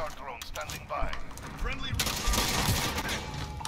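A JAK-12 automatic shotgun fires in Modern Warfare, with heavy rapid blasts and dense gunfire mixed among other game effects, while a voice talks over the action.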